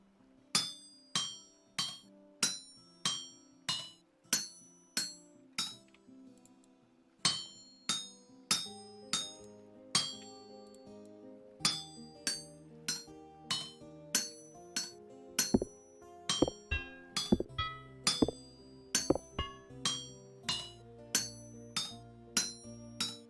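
A metal chisel is hammered out at an anvil in the Vintage Story video game, a long run of bright, ringing metallic strikes in a steady, even rhythm with a short pause partway through, with no voices.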